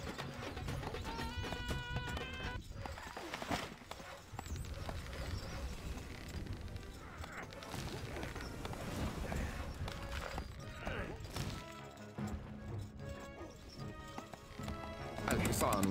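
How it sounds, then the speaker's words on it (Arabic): Horse galloping in the real-time strategy game Stronghold: Crusader, a fast rhythmic clip-clop of hooves repeating throughout alongside game effects, with a voice speaking over it. "الحصان سريع."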